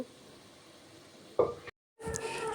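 Hot oil tempering poured over dal gives a low steady hiss, then a sudden louder burst of sizzling, a brief cut to silence, and more sizzling after it.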